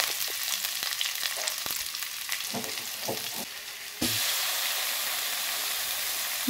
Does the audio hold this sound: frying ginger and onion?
yes